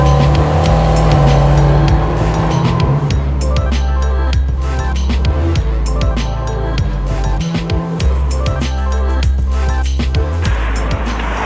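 A low-slung car nicknamed the Scud, started up and left running, its loud, deafening engine a steady rumble throughout with revving swells and no talk over it.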